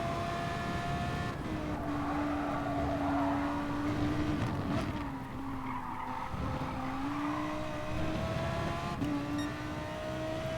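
Race car engines whine and tires squeal in Gran Turismo Sport at Suzuka, including an Audi, with a steady loud high-revving engine drone and rising and falling pitch shifts throughout, no talking.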